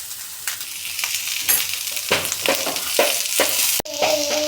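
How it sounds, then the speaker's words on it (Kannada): Salt, chili flakes, oregano and black pepper frying with cooked vegetables in a pan for white sauce pasta, a close crackling sizzle with repeated scrapes and stirring knocks, and a sharp clank near the end, without speech. "ಇದೆಲ್ಲ ಹಾಕಿ ಸ್ವಲ್ಪ ಫ್ರೈ ಮಾಡ್ಕೊಳ್ಳೋಣ"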